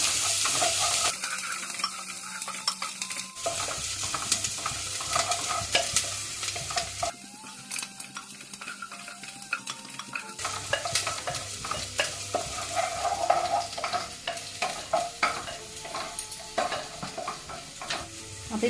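Onions, green chilies and curry leaves sautéing in a pan, a crackling sizzle with frequent rhythmic scraping and stirring of the spatula, close and continuous, with no voices.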